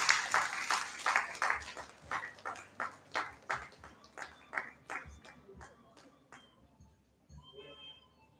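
An audience at a memorial programme breaks into rhythmic clapping, loud at first, settling into a steady beat of unison claps that gradually slows and fades out.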